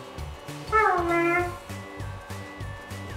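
A child imitates a cat with a drawn-out, wavering meow over a steady thumping background beat. The voiced meow is moderately loud and close.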